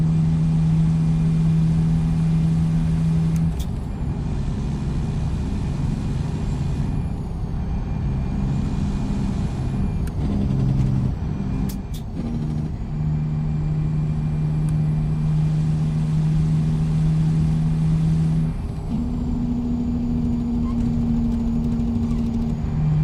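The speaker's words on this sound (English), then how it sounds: "Forgot how good this engine sound was, man. It's so sick." A semi truck's diesel engine idles steadily at close range with a constant low drone, while a few brief hiss-like bursts and small shifts in pitch break up the otherwise even rumble; nobody speaks.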